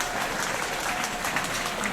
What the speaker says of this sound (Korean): 우리 김천 시민 대책을 위해서도 큰 박수 주시기 바랍니다